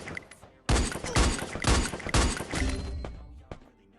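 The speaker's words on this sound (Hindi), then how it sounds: "यहाँ पे मैंने 4 गोली चलाई, जिनमें से एक गोली उस बंदे के लगती है और बाकी 3 गोली पैन पे लगती है" Gunshots striking a frying pan in the Free Fire video game, a burst of several sharp, loud metallic cracks in quick succession, then a fading clatter and one last fainter hit.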